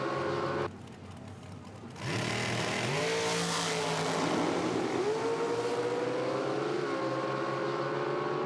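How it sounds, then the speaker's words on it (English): Nitro drag race cars launching side by side on a drag strip, a brief quiet gap and then a loud sustained engine roar that climbs through gear changes and holds at full power, with no talk. "Just a great side-by-side drag race"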